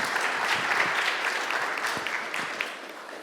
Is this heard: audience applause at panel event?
yes